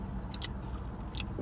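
Crunchy fried chicken bitten into at close range, with a few sharp crackling crunches over a dense, noisy background.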